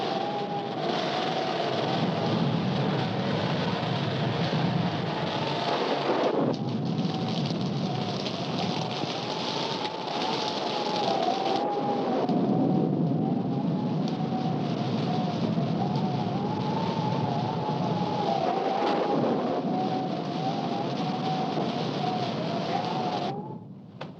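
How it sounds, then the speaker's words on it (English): Heavy steady rain pours throughout a stormy night, a dense continuous wash with a rumbling, train-like undertone; no distinct thunderclap stands out. "we'd better get out of here before this storm gets any worse"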